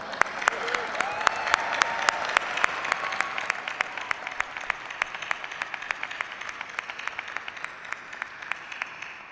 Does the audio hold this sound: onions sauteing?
no